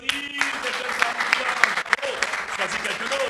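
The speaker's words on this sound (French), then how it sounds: "On applaudit" A youth-centre audience at a public-speaking workshop claps together, brisk close applause with sharp individual hand slaps, while a voice briefly talks over it.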